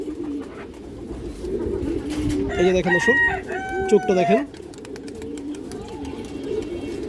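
A big red chulli female pigeon coos in a short burst of rising and falling calls near the middle, close by, while someone talks over it.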